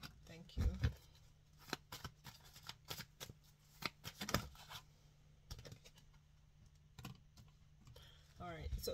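Tarot cards are shuffled by hand in repeated quick riffling bursts with soft papery flicks between them, close and fairly quiet.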